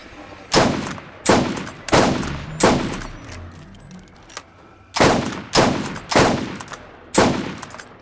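Heavy gunfire blasts at a massive boss creature called the Destroyer in a first-person shooter video game, loud evenly spaced bursts repeating about every half second with a short pause midway.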